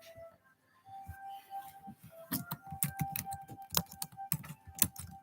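Quiet keyboard typing in a home livestream setting: irregular clusters of light key clicks, close and soft, with a faint tone humming in the background.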